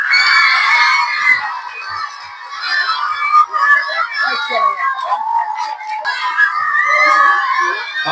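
A crowd of children cheers and shouts loudly at a school quiz final held in a public square, high excited voices overlapping in a sustained burst of noise.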